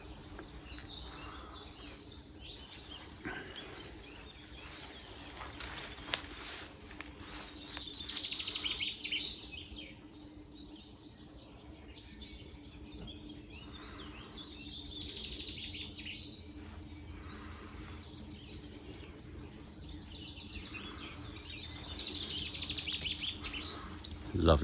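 Birds chirp and call intermittently on a calm morning at an outdoor sculpture park by lakes, with recurring bursts of song over a soft, steady background hum of insects.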